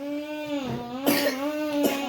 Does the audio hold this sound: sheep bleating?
no